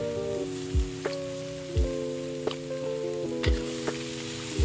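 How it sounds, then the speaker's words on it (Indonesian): Lee Fah mee noodles with pork mince fry in a pan, giving a steady, crackling sizzle. Soft scrapes and knocks from stirring repeat at intervals, and a low tonal hum runs underneath. "Dan kita kacau pan. Goreng macam goreng ni biasa."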